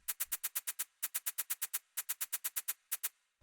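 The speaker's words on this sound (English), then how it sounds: "So this is just a shaker sample." Shaker percussion sample in a techno track, crisp evenly spaced hits in short bursts of eight with brief gaps, dry and close, no voice.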